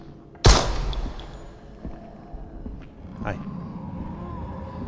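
A single loud gunshot in the zombie game Propagation: Paradise Hotel cracks sharply, then fades into a low rumble with faint scattered knocks.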